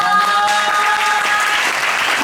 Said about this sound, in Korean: 다시 저희 다 한번 배우분들께 박수 부탁드립니다